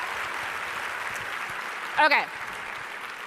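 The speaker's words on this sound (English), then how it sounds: "So let's all give them a round of applause." Steady audience applause in a large conference hall at a live festival panel, with a brief spoken word cutting through near the middle.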